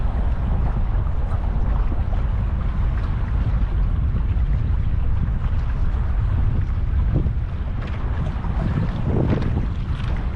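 Boat with dual engines cruising on the Colorado River near Hoover Dam, a steady low motor rumble blended with wind buffeting the microphone and water noise throughout.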